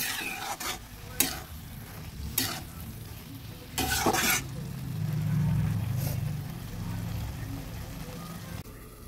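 Banana flower being stirred and sautéed in a pan over medium heat for a vegetarian dish, with a steady sizzle and several sharp scraping stirs up close.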